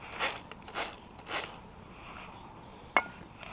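A nitro RC car's drivetrain is spun up during after-run cleaning, producing three short whirring bursts in quick succession followed by a single sharp mechanical click, fairly faint and with no talking.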